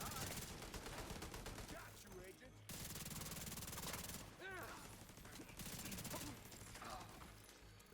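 Rapid automatic gunfire in The Division 2, dense bursts rattling almost continuously with brief breaks, mixed with game effects and a voice talking over it.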